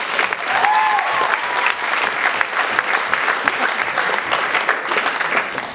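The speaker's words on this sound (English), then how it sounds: "Can we get a quick round of applause for Maggie and Matt?" A crowd at a college fraternity chapter event, Delta Sigma Pi at Indiana University, breaks into dense, loud applause that holds steady throughout, with a brief faint whistle early on.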